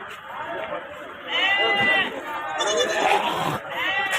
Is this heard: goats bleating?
yes